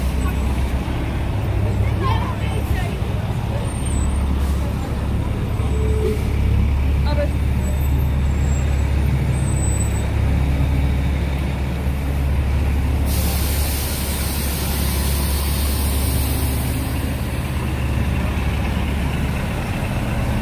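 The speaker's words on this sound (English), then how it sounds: "These are buses that go between Brooklyn and Manhattan" New York City express buses running between Brooklyn and Manhattan mix with steady street traffic, a hiss of air brakes and engine rumble, while a voice talks throughout.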